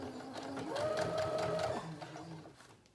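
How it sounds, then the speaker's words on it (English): A sewing machine stitching the side seams of a high-waisted denim skirt, a steady close whirring run that rises for about a second and then winds down, with faint background hum. "we're gonna stitch both side pieces number 4"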